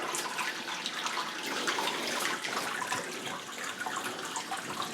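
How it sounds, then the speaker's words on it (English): A pump on a brewing system pushes sparge water from the tank, giving a continuous rushing, splashing water sound at moderate level with no voices. "And then we'll fire the pump."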